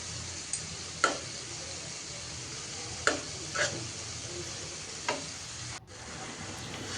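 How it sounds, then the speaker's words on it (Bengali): Spices cooking down in a pan after onions have been fried, a soft steady sizzle with a few sharp clicks of a spoon stirring against the pan, close and quiet. "পেঁয়াজটা ভাজার পর মশলা দিয়ে এখন কষিয়ে নিচ্ছি"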